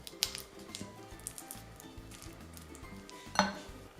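Unsalted softened butter at room temperature beaten in a bowl with a spatula, soft irregular scraping and thudding strokes close up, with a couple of sharp clinks against the bowl.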